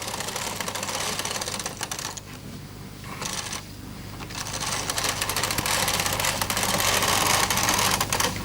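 A Bond Incredible Sweater Machine knits two rows as its carriage is pushed across the needle bed, making a steady, close mechanical rattle and clatter that pauses briefly in the middle, with no talking.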